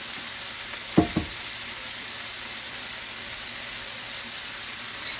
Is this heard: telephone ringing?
no